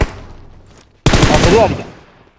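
Gunfire in a shooter video game: a sudden, loud, close burst of shots cuts in after a quieter fading tail, then rings out and decays.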